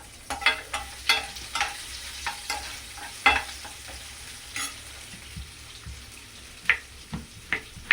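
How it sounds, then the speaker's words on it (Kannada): Chopped onion sizzles in hot tempering oil for a palak dal tadka, with a soft steady fry under repeated crisp clicks and scrapes of a stirring spoon against the pan, close and without speech. "ಒಂದು ಒಗ್ಗರಣೆಗೆ ಒಂದು ಆನಿಯನ್ ಕಟ್ ಮಾಡಿ ಹಾಕ್ತಾಯಿದ್ದೀನಿ."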